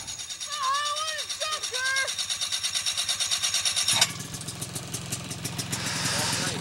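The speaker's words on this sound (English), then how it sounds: "Okay, and he starts up his engines." A Ski-Doo snowmobile engine, here a Citation model, fires up with a rising mechanical roar, then settles into a steady, close idle with a rhythmic pulse, while voices talk over it outdoors in Arborg, Manitoba.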